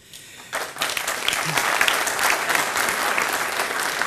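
An audience at a Tel Aviv University economics prize ceremony bursts into applause, a quiet start giving way to a sudden swell of dense clapping that stays full and steady to the end.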